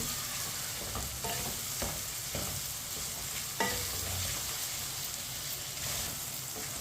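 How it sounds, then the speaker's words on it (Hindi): Tomatoes fry over medium heat in a pan while a spoon stirs them, giving a steady sizzle broken by soft scraping strokes, close and moderately quiet, with no talking. "टमाटर को मैंने 2 मिनट के लिए पका लिया है चम्मच चलाते हुए"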